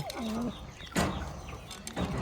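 A Khulna chot pigeon gives a clear, close cooing call, followed by a few short rough bursts of noise.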